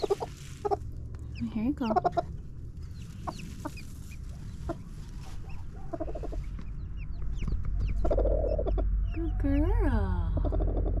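A broody mother hen on a farm making soft, low clucks and short growling calls scattered throughout, close by, while a person briefly speaks to her.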